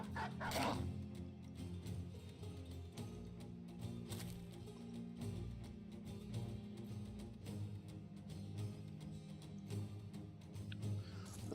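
Dog barking and yipping in the video game Battle Brothers, with repeated short barks and whimpers over a dense, busy game soundscape throughout, moderately loud and with no voices.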